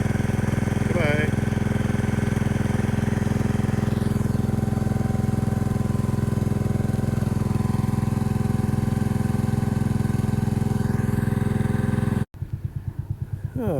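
A garden tractor engine idles close by, a steady, loud mechanical drone with an even low throb that holds unchanged for about twelve seconds before cutting off abruptly.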